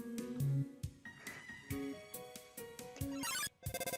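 A telephone rings in the Undertale video game as a loud, chiming electronic melody of bright tones and quick blips, played alone.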